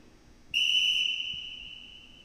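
A single sharp referee whistle blast for a futsal restart signal, loud and close, sounding alone with one sustained tone of about a second and a half that slowly fades.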